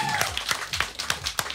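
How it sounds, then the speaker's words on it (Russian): A brief spell of rhythmic clapping from a small audience at a live concert in a radio studio, several crisp claps in even succession, close and moderately loud. "Аплодисменты публике."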